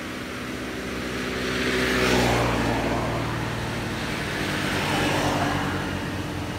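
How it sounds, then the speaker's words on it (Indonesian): A Yamaha F1ZR motorcycle with a freshly tuned carburetor runs in an engine endurance test, its engine humming and swelling as it revs up, eases and climbs again through the gears. "Ini uji ketahanan mesin sama Ryan"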